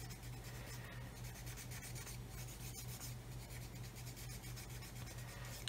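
Mr. Surfacer is rubbed by hand over a model's surface, a faint, steady scratchy rubbing in quick repeated strokes, close up and without talk.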